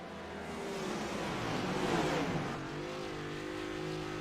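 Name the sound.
race car engine revving in iRacing video game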